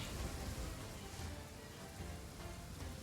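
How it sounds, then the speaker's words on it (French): Rain falls steadily outside, a soft, even broadband patter that is muted and continuous with no voices. "j'espère que le son de la pluie n'est pas trop fort"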